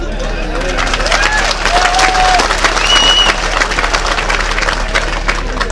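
Crowd applause at a political rally, a loud, dense sustained clapping from a large audience with shouts and whistles mixed in, continuing for several seconds.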